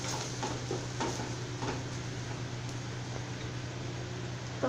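Onions and spices sautéing in a pan for a wheat adai dosa, a steady close sizzle with faint stirring scrapes and clinks of the spatula throughout, no voices.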